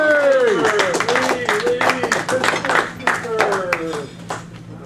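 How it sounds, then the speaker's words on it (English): A lecture audience gives scattered, uneven hand claps of welcome to the evening's speaker, the claps sounding under someone speaking through most of the moment. "warm round of applause for our speaker tonight"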